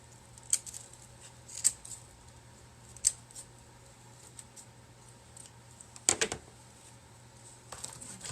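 Scissors trimming a piece for an acorn wall-hanging craft make sharp, close snips at irregular intervals, about seven cuts in all, against a quiet room hum with no talk.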